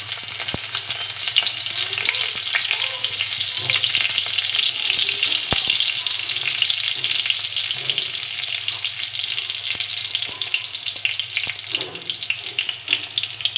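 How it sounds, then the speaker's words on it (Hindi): Green chillies fry in hot oil in a pan while Maggi noodles with paneer and soybean are being made. A loud, continuous close-up sizzle crackles steadily throughout, with faint stirring clicks and no talking. "अब मैं डालूँगी हरी मिर्च"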